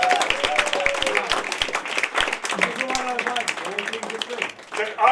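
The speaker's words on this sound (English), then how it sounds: "So please round of applause for everyone who didn't go through tonight." An audience at a comedy show claps in a steady round of applause, dense and continuous, with voices talking over the clapping throughout.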